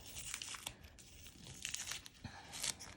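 Tape pulled off vinyl while making a zip bag, faint crinkly tearing and crackling in a few short bursts, quiet and close, with no voices.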